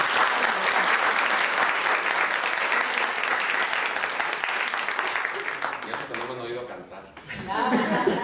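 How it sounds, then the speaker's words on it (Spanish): An audience claps after a talk on human rights, a dense steady applause with some chuckling mixed in, loud and sustained before thinning out and briefly surging again near the end. "vamos a darle un aplauso y después preguntas."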